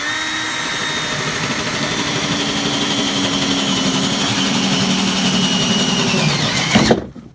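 A power drill bores steadily through a thick wooden board, its whining motor droning loud and continuous for about seven seconds before cutting off abruptly near the end.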